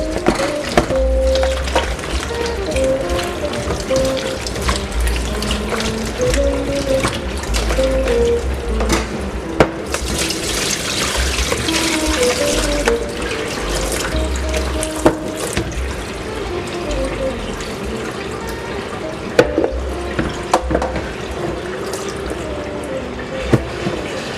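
Water runs steadily from a kitchen tap as salted eggplant is rinsed beneath it, a continuous close splashing and trickling with small clinks now and then and no talking.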